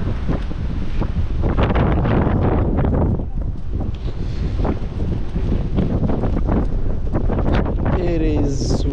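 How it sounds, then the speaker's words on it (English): Strong wind roars and buffets a microphone continuously, with heavy low rumble throughout and no voices. "It is windy."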